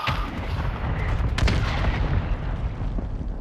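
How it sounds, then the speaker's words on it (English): Mortar strike explosions in Call of Duty: Warzone 2.0 on Ashika Island, a dense, continuous rumble of blasts and booms with a sharper impact near the middle, loud and sustained throughout. "Friendly mortar strike inbound."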